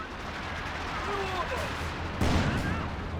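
An artillery strike destroys a mortar pit in the Company of Heroes 2 strategy game, landing as a single heavy, close blast over a steady rumble of ongoing battle.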